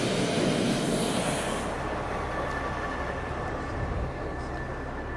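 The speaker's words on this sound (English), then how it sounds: "An onboard means of supplying power to an aircraft, usually a small engine located at the rear of the aircraft." A steady, loud mechanical roar with a high whine from an aircraft auxiliary power unit, a small engine at the rear of the aircraft, running continuously nearby.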